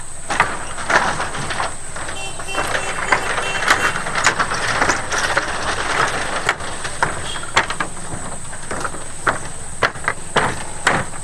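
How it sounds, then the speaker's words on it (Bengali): A Maruti van crosses a floating bridge over a river, a sustained rumble of the vehicle broken by repeated loud clanks and knocks as the deck shifts beneath it, close and fairly loud. "ভাবা যায় এর উপর দিয়ে মারুতিও পেরায়"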